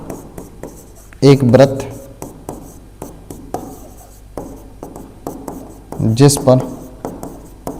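A pen writes by hand while a Class 10 maths problem is solved, producing soft scratchy strokes throughout, with two louder bursts of rapid scribbling, all under steady spoken explanation.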